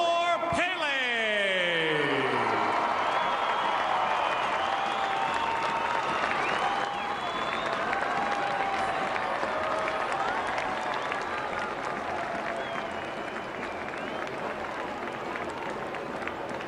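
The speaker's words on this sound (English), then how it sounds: "let's have one more big round of applause for Pele." A stadium crowd at a soccer match claps in sustained applause after a big ovation is called for. Whistle-like and cheering tones rise early, and the steady roar of clapping continues throughout.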